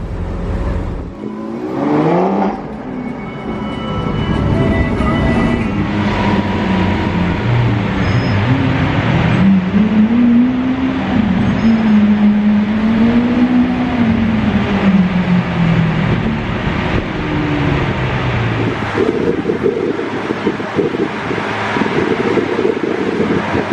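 Lamborghini supercars rolling in convoy through the streets of Monaco toward the Place du Casino, a steady engine drone with a rising and falling rev, and wind buffeting the microphone throughout.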